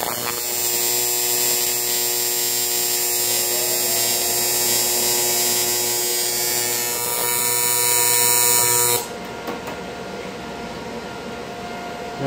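TIG welding of very thin aluminum on a car trunk panel, building metal up around an edge: a steady, loud electric buzzing hum with a bright hiss that runs continuously, then drops off sharply near the end as the arc stops.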